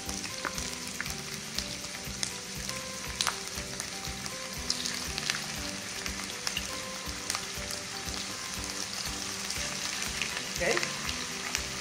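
Steaks sizzle in a frying pan in a home kitchen, a steady dense crackle and hiss running the whole time, close and even, with a brief spoken word near the start.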